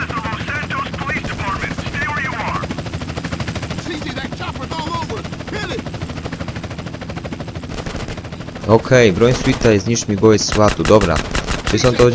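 Helicopter rotor drone and bursts of gunfire from GTA San Andreas, with sustained shooting throughout and a louder flurry of rapid shots near the end.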